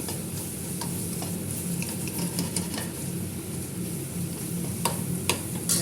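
Ingredients sautéing in a pan for an egg gravy, just before ground tomatoes go in: a continuous bright sizzle with irregular spoon scrapes and clinks against the pan, no talking.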